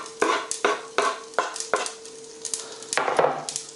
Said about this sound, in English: And we'll just stir those spices into the ghee.